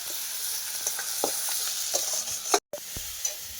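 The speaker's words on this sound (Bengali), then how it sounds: "আলুটাকে ভালো করে ভাজি" Potatoes fry in a spiced, well-cooked masala, giving a constant close hiss with light scrapes from stirring, broken by a short silent gap near the end.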